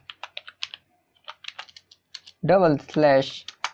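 Rapid keystrokes on a computer keyboard while Arduino code for a 10-LED chaser is typed, a quick run of crisp, close clicks with short pauses, then someone speaks briefly over the last stretch.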